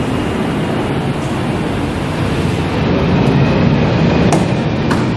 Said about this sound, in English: Sorry about the plane going overhead.